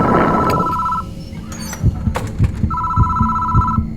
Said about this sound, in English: If phone rings, don't answer the call.